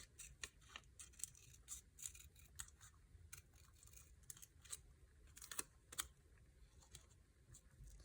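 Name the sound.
scissors roughly cutting paper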